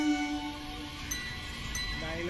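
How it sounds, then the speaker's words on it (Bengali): A train passes nearby, giving a steady rumble with tonal horn-like lines at the start and faint metallic squeals, heard close and continuous with no talk. "ট্রেন যাচ্ছে"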